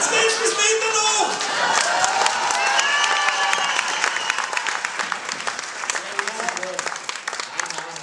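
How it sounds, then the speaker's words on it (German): A concert audience in Salzburg gives frenetic applause while calling for an encore. Loud, dense clapping with whoops and cheering voices starts full and thins slightly toward the end. "Wenn man so einen frenetischen Applaus gibt, gibt man gerne eine Zugabe."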